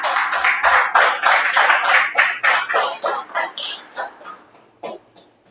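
Applause for a prize winner at a municipal employee-day raffle in Fiambalá, a burst of hand-clapping that comes through as rhythmic pulses, thinning and fading toward the end.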